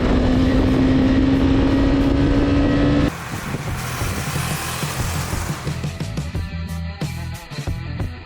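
Husqvarna Vitpilen 250 motorcycle being ridden, its engine loud and close with a steady rising tone, then a shift to rougher, broadband riding noise with wind and road rumble, no speech.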